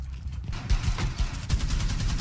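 Rapid gunfire in a tactical shooter game, fired through a floor, comes as a fast burst of cracks after a brief quiet start, close and fairly loud.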